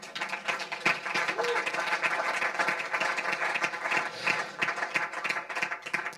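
Congregation applauding in a church, a dense steady patter of clapping that carries on without a break, with cheering voices mixed in.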